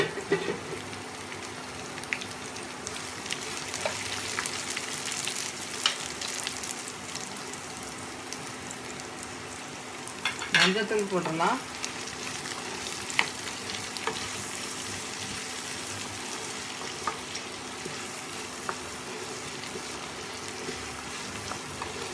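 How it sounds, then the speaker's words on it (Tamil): Steady sizzling of bottle gourd sautéing in a pan with chillies, with a brief stirring scrape midway and a soft voice speaking over it. "நல்லா வதங்கிட்டு சொரக்காவை போட்டுருவோம்"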